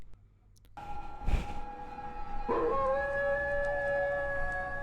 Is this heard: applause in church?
no